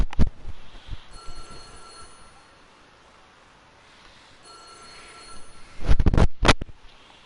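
A telephone rings in the horror video game White Day, with repeated electronic ring bursts separated by a quiet gap, followed by a loud cluster of sharp rings near the end.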